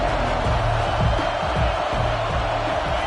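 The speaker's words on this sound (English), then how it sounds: "Decibels rising as the crowd gets behind this defense on third down." Football stadium crowd roaring to back the defense on third down, a dense, loud wash of cheering that holds steady throughout, with no clear voices standing out.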